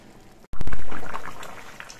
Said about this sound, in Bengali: ঝোলটা বেশ কিছুক্ষণ ফুটিয়ে নিয়েছি